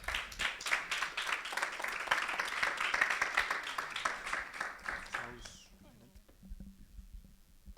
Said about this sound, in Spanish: lo recibo con un fuerte aplauso